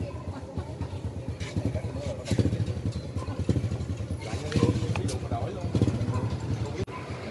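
A 2009 Honda Future Neo motorcycle with its original engine runs steadily nearby, giving a continuous low throbbing hum with some clattering over roughly seven seconds.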